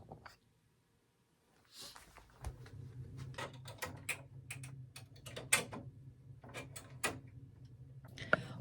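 A home embroidery machine stitches out letters, giving a steady low motor hum with rapid clicking and tapping of the needle over several seconds, close and moderately quiet after a brief silent start.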